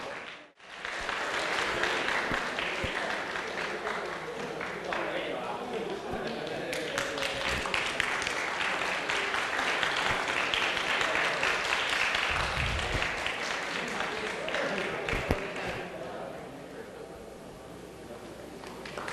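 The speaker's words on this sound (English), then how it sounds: "please give again the applause." An audience at an academic forum applauds, a dense sustained wash of many hands clapping that holds steady for a long stretch before tapering slightly.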